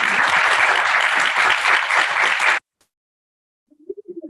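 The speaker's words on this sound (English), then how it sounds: "A big round of applause to them" An audience at a Vedic temple event applauds the singers with loud, dense clapping that cuts off abruptly into silence, followed by a brief faint voice.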